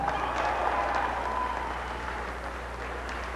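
A mariachi concert audience claps steadily and loudly, a dense, even wash of applause that tapers slightly toward the end with no talk over it.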